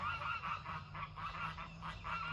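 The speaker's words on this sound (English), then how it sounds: "There's a white goose and like a gray goose." Geese, a white one and a gray one along with Canada geese, honk repeatedly in a steady rhythmic series, distant and faint over outdoor background noise.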